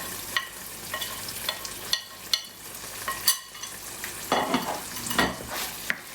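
Powdered masalas (coriander and cumin) are sauteed into a puree in a pan, with soft sizzling and repeated scraping strokes of a spoon stirring at an uneven rhythm, close and alone.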